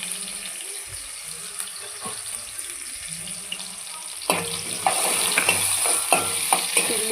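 Chillies and onions fry in a pan, quiet sizzling and scraping at first, then a louder, denser hiss when more goes in, with steady stirring clatter close by and no speech.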